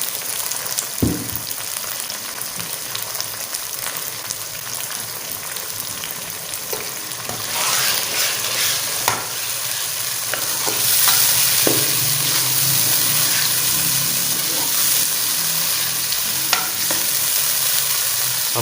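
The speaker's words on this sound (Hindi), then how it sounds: "अभी हम डाल देते हैं अपना चिकन। इसे पहले फ्राई कर लेते हैं।" Boneless chicken pieces frying with browned onions in a kadhai, a loud continuous sizzle with repeated spatula scrapes and clinks, rising in intensity partway through, close up and without speech.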